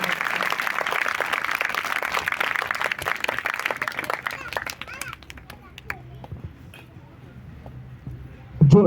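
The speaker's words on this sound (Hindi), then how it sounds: "उसके लिए आप जोरदार तालियां बजाएंगे" Loud applause and clapping from a church congregation during a Sunday service, dense and sustained for several seconds before thinning out into scattered claps and quieter room sound.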